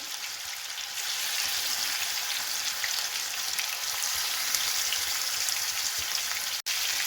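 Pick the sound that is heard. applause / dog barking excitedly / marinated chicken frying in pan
marinated chicken frying in pan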